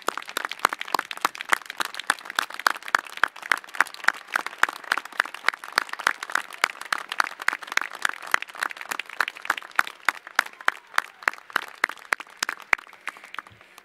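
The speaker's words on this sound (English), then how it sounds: "Please, let's give them a round of applause" An audience at the University of Mississippi's commencement ceremony gives sustained applause, dense rapid clapping that holds steady for about fourteen seconds with no talk.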